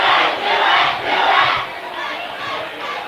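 A high school football student section at a Pius X Thunderbolts game against the Gretna Dragons chants a loud rhythmic cheer, the crowd's shouting rising and falling in repeated waves.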